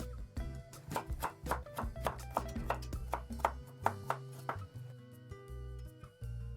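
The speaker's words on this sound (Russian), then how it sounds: "Соломкой режу морковь." A kitchen knife slices carrot into julienne strips on a cutting board in rapid, even taps, a dozen or more crisp chops close by, easing into softer knocks near the end, with no voices.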